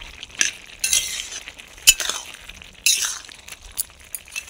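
Lentil fritters being added to a mustard paste gravy and stirred, with intermittent scrapes and clinks of a spoon against the pan separated by quieter gaps; no voices.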